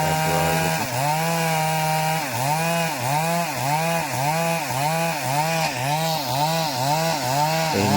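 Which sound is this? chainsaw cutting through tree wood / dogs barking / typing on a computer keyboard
chainsaw cutting through tree wood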